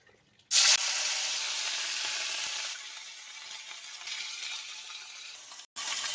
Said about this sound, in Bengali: মাছ ভাজা তেলের মধ্যে পেঁয়াজ বাটা দিয়ে দেবো।